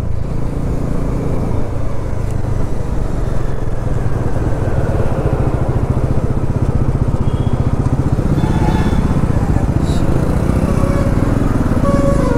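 A Bajaj Pulsar NS400Z motorcycle engine drones steadily and loudly on the highway, a continuous near hum with wind roar, without talk.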